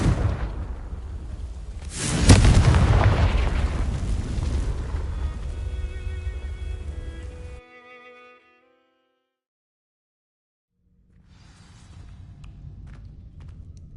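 Confringo fire spell in Hogwarts Legacy setting dry vines ablaze, a loud whooshing burst that rolls into a crackling roar, then a tinkling magical shimmer, a moment of silence and a soft rustle afterward.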